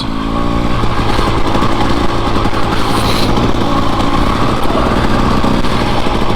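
A TE300 two-stroke dirt bike rides a rocky, sandy desert trail, its engine buzzing loud and close without a break, with small changes in revs and no talking.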